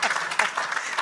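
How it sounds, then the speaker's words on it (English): Brief burst of applause from a dinner audience, a loud, dense patter of many hands with voices mixed in. "can we give her another round of applause?"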